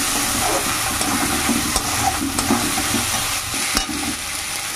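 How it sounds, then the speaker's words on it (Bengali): Ground cumin paste sizzles in hot oil in a pan, a continuous loud frying hiss broken by a few sharp clicks and scrapes of stirring, with no voices. "এবার এই জিরে বাটাটাকে ভালো করে তেলে ভেজে নিতে হবে।"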